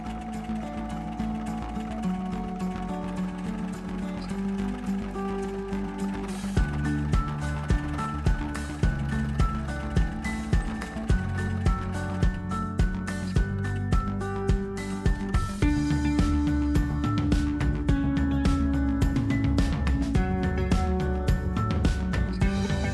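A sewing machine runs a decorative stitch along a fabric pie bag, giving a steady mechanical whir with a rhythmic ratcheting clatter that grows more pronounced partway through, set against a constant tonal background.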